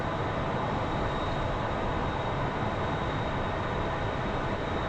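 Su-25 jet roaring on the runway during takeoff in a flight simulator game, a steady loud broadband engine rumble that holds unbroken from start to finish with no voices.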